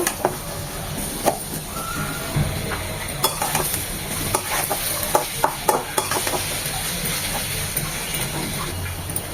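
Chopped onions fry and get stirred in a pan for salted hilsa dopiaza, a steady close sizzle broken by scraping spoon clicks and stirring knocks, with no one talking.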